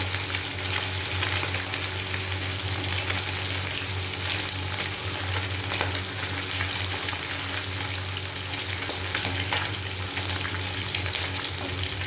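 Little fish sizzle in a pan of ample hot oil, a loud, unbroken crackle and spatter carrying on evenly for several seconds, close by and free of talk.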